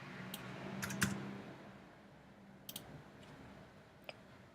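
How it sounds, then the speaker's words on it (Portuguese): Keys clacking on a computer keyboard as a web address is typed, a few scattered quiet clicks and short bursts in a faint, otherwise still room with no talking. "Então se você digitar aqui o localhost"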